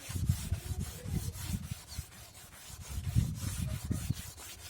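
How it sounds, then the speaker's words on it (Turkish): A car headlight is wet sanded by hand with 400-grit sandpaper and plenty of water, giving soft rhythmic rubbing strokes in repeated back-and-forth bursts, quiet and close. "400 zımparayla zımparalama işlemini yapıyorum."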